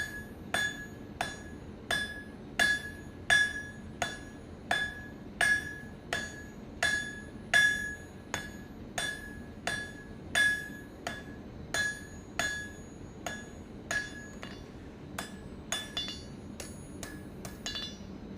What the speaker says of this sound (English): Maybe I'll switch to a little bigger hammer